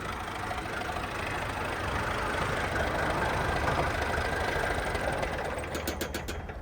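A tractor engine, a Ford 3600 or Massey 135, runs at a steady, rumbling idle, loud and close, with a constant low knocking throb and no talking.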